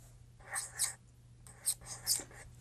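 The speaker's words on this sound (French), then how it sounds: "Je vais vous le montrer avec le crayon. Donc, je vais juste écrire Love" An embossing pen writes the word Love on paper in short scratchy strokes, in two quick bursts with a brief pause between them, close and quiet over a faint low hum.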